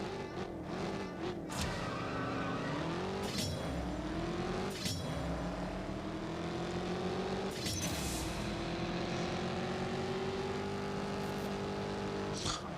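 Race car engine in the CSR2 drag racing video game, revving up in repeated rising sweeps with sharp gear-shift breaks between them, loud and continuous, no talking.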